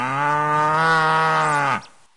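A single cow moo from a livestock field in a video game, loud and close, one sustained low lowing call lasting nearly two seconds before cutting off, with no talk.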